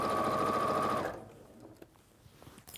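A sewing machine stitches around the edge of a fabric pocket, running at a loud, steady whir for about a second before stopping, followed by faint handling noises.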